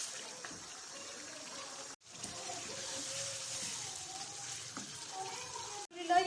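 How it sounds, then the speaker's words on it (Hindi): Angara chicken frying in hot oil in a pan, a steady close sizzle and crackle running throughout, with two brief sharp dropouts and a louder burst at the end. "अब इसको मैं 5-6 मिनट भून लूँगी।"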